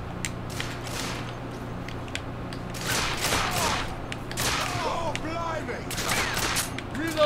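Gunfire from the video game The Order: 1886 crackles in bursts of sharp volleys, growing denser toward the end over steady background game noise.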